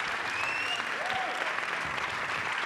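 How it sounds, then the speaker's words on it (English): Steady audience applause fills a conference panel hall in Berlin, dense continuous clapping at even loudness, with a faint whistle-like tone rising briefly partway through. "Please give a huge applause for Yanis and Elie, Isabel and Lorenzo."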